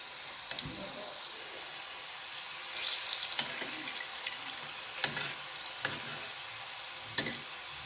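Kuli pitha cakes sizzle steadily in hot oil in a pan, a constant close frying hiss broken by a few sharp clinks and scrapes as the cakes are flipped.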